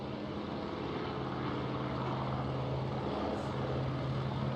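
A Douglas Skyraider's big Wright 3,350 cubic inch piston engine drones steadily from a distance, an even, unbroken rumble with no voices over it.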